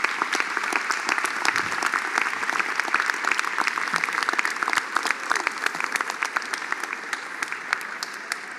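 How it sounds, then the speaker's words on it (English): Graduates at a College of Medicine commencement ceremony applaud the faculty seated on the podium, a dense, steady wave of clapping from a large crowd that holds evenly throughout without fading. "I want you to clap at everybody up there and thank them for what they did to"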